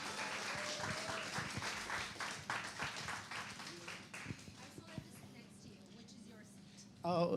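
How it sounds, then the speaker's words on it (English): A live audience applauds as an actress is welcomed onto a stage at a promotional launch event. Steady clapping runs under voices for most of the clip, then fades and swells loudly again near the end. "Can we have a big round of applause for Sunny, please?"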